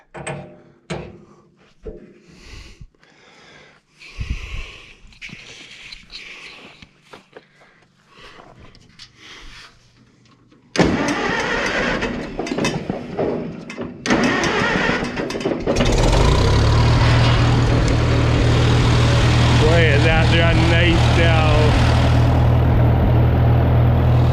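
An International 400 tractor engine after a tune-up: clanks and knocks give way to cranking, then the engine catches and settles into a loud, steady, close running drone.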